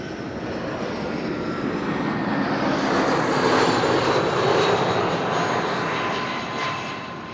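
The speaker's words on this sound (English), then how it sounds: "And EasyJet, the first arrival, arrived from London Luton," An easyJet Airbus A319 arriving at Amsterdam Schiphol from London Luton makes a broad, steady jet roar heard from a distance. It swells gradually toward the middle and then eases off, with no voices.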